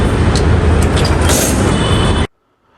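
A Bangalore metro train rolls past as a loud, steady rumble of rails and carriage noise, then cuts off abruptly into near silence near the end.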